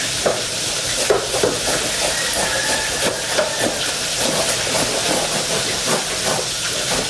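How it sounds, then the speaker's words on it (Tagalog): Fish fries in a pan of hot oil for an escabeche dish, a loud, steady sizzle and hiss with occasional stirring scrapes and pops, close up and without talk. "at habang nagpiprito tayo ng isda"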